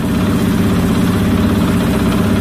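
A freshly rebuilt motorcycle engine idles steadily after a kick-start, a loud, continuous low throbbing rumble close by with no talking.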